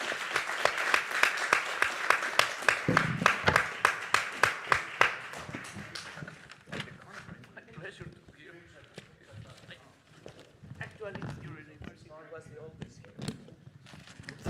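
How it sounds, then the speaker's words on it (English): A room full of people at a university presidents' forum claps in steady applause that gradually thins out, with voices starting to talk as it fades. "we can close with a rounding applause to our presidents"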